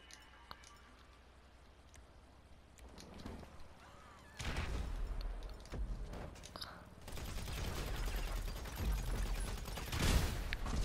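Grenade launcher explosions in GTA Online, with loud booming blasts and rumbling bursts that come in waves after a quieter opening, mixed with scattered game noise and a little talk.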